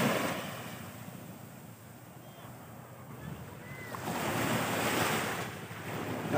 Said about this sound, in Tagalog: Dito muna tayo sa may gilid ng dagat.